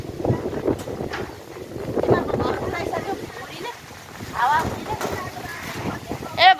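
Strong storm wind batters the microphone in gusty rushes during a Nepal storm that blew off a house roof, while people talk anxiously over it.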